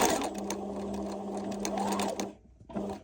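A Bernina 1000 Special sewing machine stitches a buttonhole in a steady, close, continuous motor hum, which breaks off briefly before a short second burst.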